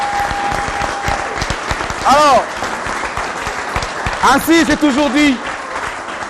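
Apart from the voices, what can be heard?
audience applause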